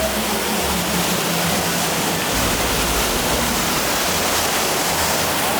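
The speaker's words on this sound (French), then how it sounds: "Parce qu'on a la cascade." Steady, loud rush of a waterfall at the Mer de Sable theme park, a dense continuous roar of falling water with no voices over it.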